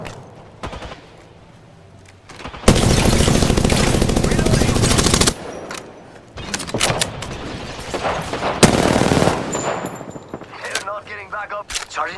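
Heavy automatic gunfire in the Apex Legends video game, a long loud sustained burst followed by scattered volleys and shots, with a player's voice speaking between them.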